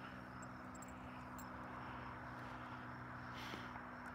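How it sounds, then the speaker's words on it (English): Small propeller plane flying by overhead during an evening outdoor walk in Idaho, a steady distant drone with a low engine hum, faint and continuous throughout. "It's a little plane flying by."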